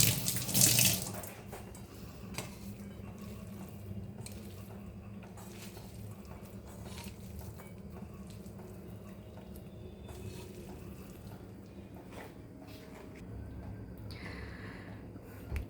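Water from boiled chow mein noodles running off into a sink, a soft continuous splashing stream after a brief louder gush at the start, steady and fairly quiet throughout.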